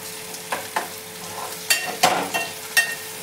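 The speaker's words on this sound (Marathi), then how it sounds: "कांदाही थोडा लाल होईपर्यंत परतून घ्यायचा आहे" Onion fries in a pan, a close steady sizzle broken by several quick stirring scrapes and spatters in an uneven rhythm.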